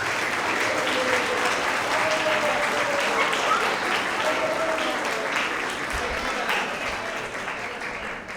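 Sustained, full-room applause at a middle school award assembly for sixth through eighth graders, a thick wash of many hands clapping at steady volume that eases off slightly toward the end.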